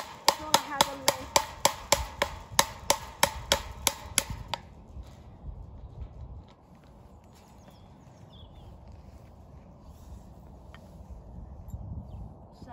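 A rapid series of sharp metallic hammer strikes on a wire fence, about a dozen in quick rhythm, then the blows stop and quiet outdoor ambience with faint rustling remains.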